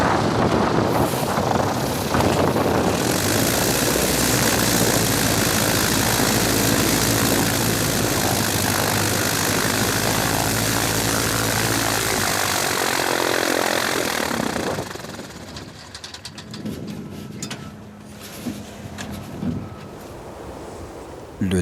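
A small propeller plane lands on a steep Alaskan hillside slope of over 20 degrees. A loud, steady engine and propeller drone with wind rush dominates, then drops abruptly to a quieter idle with scattered clatter.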